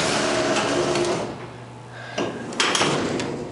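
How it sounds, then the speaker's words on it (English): Schindler hydraulic freight elevator at Saks Fifth Avenue in the Mall at Short Hills running, a steady mechanical hum that fades, then clunks and rattling thumps as it stops, recorded up close. "It's the freight elevator at Saks Fifth Avenue in the mall at Short Hills."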